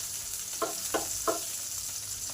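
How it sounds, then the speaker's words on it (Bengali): Potatoes and garlic fry in a pan with a close, steady sizzle. Three short scraping stirs come at even intervals, and no one speaks. "আলুগুলোকে লাল লাল করে ভেজে নেব"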